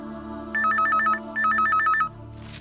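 A telephone rings twice in quick trilling bursts, a bright electronic bell pattern, close and clear over a quiet room hum with no talking.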